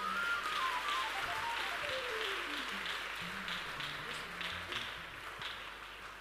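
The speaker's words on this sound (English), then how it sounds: "We can clap again." Church congregation clapping together during a service, a steady wash of applause at moderate distance, with a descending musical tone and a few faint voices underneath.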